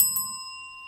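A small bell is struck once with a bright metallic ding, its pure ringing tone lingering and slowly fading in an otherwise quiet space.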